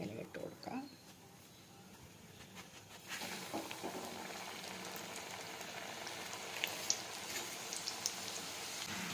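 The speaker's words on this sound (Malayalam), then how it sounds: "എണ്ണ നന്നായി ചൂടായി കഴിഞ്ഞു. ഇതിലേക്ക് നമ്മൾ മുറിച്ച് വെച്ചിരിക്കുന്ന ഡയമണ്ടുകൾ ഇട്ട് കൊടുക്കുക." Masala diamond snack dough pieces dropped into hot oil, a steady broadband sizzle that jumps louder after about three seconds and continues with small popping crackles, close up, with a voice talking over it.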